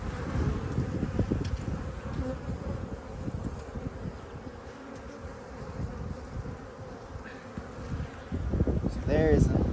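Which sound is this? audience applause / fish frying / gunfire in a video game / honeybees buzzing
honeybees buzzing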